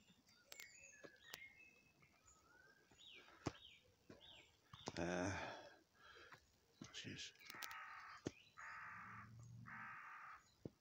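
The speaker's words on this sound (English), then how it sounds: "What is that bird making its squawking noise?" A crow caws repeatedly outdoors near trees, harsh squawks recurring at moderate distance over faint background noise, with a loud rustle midway.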